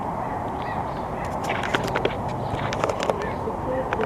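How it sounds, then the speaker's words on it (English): Crows caw a few times in the distance over steady outdoor rumble and a voice talking, in Old Town San Diego, California. "Crows are out."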